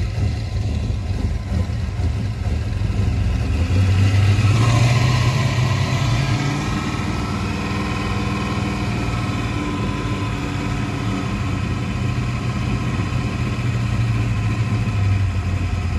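A boat engine that had sat unused runs steadily up close, smoking, a loud continuous drone that briefly rises in pitch as it revs, then settles back to idle.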